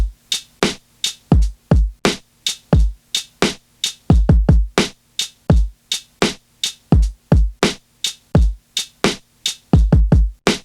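A punchy drum loop with crisp kicks and snappy hits in a steady groove, given a gritty, lo-fi texture by an SP303 vinyl simulation effect, with no voices.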